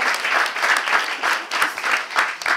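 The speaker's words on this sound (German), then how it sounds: "Das hat auch nochmal einen Applaus verdient" Audience applause at a talk event on blogging against racism, a dense burst of clapping from a crowd, fairly close and steady for a couple of seconds.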